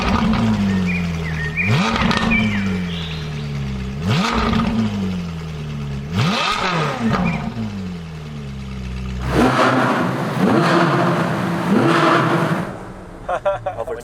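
A Ferrari 458 Speciale V8 rises and falls in repeated sharp revs, loud and close, with the exhaust flaps opening above 3,000 rpm. A final longer, harsher surge follows, and voices can be heard briefly.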